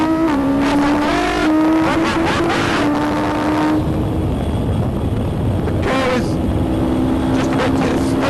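Atom V8 car on the Nurburgring circuit accelerating at full throttle, a loud close engine note climbing through the revs, breaking at a gear change, then pulling hard again.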